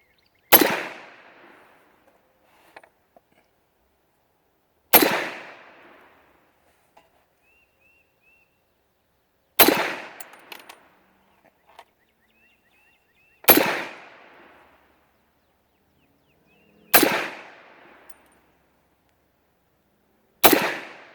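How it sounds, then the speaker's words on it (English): An Auto Ord carbine fires single shots down range at a 15-yard setting, five or six sharp loud cracks spaced several seconds apart, each followed by a short echoing decay and faint clicks between. "Aim her down range on the short range sight setting at 15 yards and see how it shoots."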